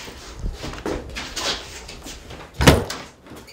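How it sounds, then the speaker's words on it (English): A door being shut in a house, heard as a single firm thud with a brief rattle standing out clearly after several seconds of quieter shuffling and movement. "Let me shut the door."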